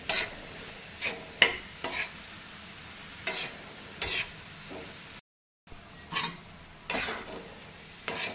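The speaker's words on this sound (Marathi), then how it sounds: "आता एक 3-4 मिनिट मस्त परतवून घ्यायचे आपल्याला" Onion, tomato and capsicum for street-style masala pav sautéing in a pan: a soft frying sizzle under regular, fairly loud spatula scrapes and taps roughly every second, with one brief dropout and no talking.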